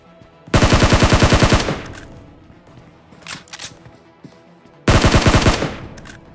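Automatic gunfire in the mobile battle royale game PUBG Mobile: two loud, rapid bursts of machine-gun fire with a few scattered shots between them, close and dominant.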